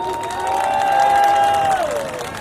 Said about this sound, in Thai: เสียงปรบมือให้กำลังใจ